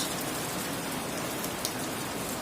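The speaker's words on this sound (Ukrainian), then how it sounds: "Бачите, який дощ" Steady rain pours down continuously, a dense even hiss of drops on surfaces, with no voices or other sounds standing out.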